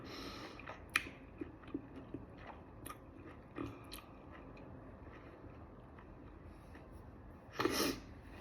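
Close, wet crunching and biting of juicy fruit, with scattered small chews and one louder crunchy burst near the end, no talking.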